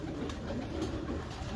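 A breeder pigeon coos in soft low repeated throaty calls, close and moderately quiet, with no talk during the calls.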